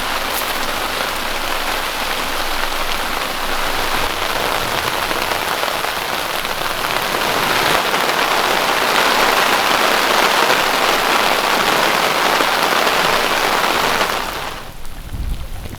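Very heavy rain pours steadily on a canoe trip through Quetico Provincial Park, a dense, loud, unbroken roar that swells slightly midway and then cuts off abruptly near the end.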